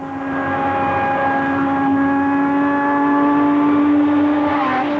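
Formula One race cars from 1972 drive the final lap of a Grand Prix in tandem, a loud, sustained high-pitched engine whine holding steady at speed with no talk.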